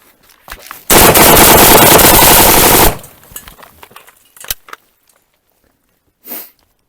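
A Colt M4 carbine fires a loud, sustained automatic burst of about two seconds, followed by scattered fainter shots and clatter at a shooting range.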